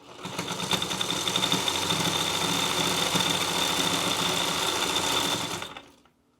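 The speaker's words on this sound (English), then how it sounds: "And I'd like to reinforce this seam, so I'm going to go over it a second time." A sewing machine runs continuously for about six seconds, going back over a seam on fabric for sock dryer balls. It whirs close and steady at an even rhythm, then stops abruptly.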